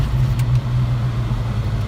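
A 2001 Audi A6 4.2 V8 with an Eaton M122 supercharger and water-methanol injection idles steadily and close by, a deep low hum with a strong rumbling tone that holds throughout without revving.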